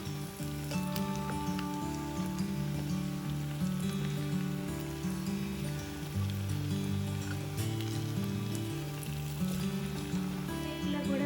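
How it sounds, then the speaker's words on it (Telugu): Black chana and coriander tikkis fry crisply in a pan, a steady close sizzle and crackle of hot oil running throughout under faint background music. "ఒకవైపు కాలాక రెండో వైపు తిప్పుకుని రెండు వైపులా కూడా క్రిస్పీగా వేయించుకోవాలి"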